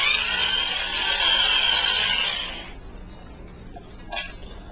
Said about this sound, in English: I'm drilling very carefully where I've made my mark.